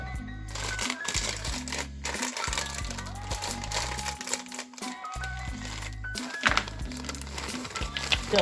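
Kitchen scissors cutting open a packet of brownie mix: crinkly plastic rustling and crackling throughout, with short snipping clicks and handling noises, close and fairly loud, with no talking.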